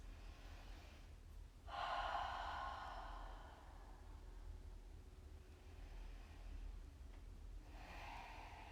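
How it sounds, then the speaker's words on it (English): Two deep clearing breaths during a hatha yoga flow, each a strong, close, breathy exhale through the nose and mouth, separated by several seconds of quiet room noise. "Let's take a couple clearing breaths."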